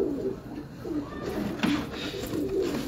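Strong pigeons coo close by in repeated low, throaty rolls, several calls in a steady rhythm over a few seconds with no talking.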